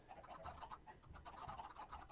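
Chickens clucking in the Minecraft video game, several birds producing repeated short clucks in an irregular rhythm, close and clear with no voices present.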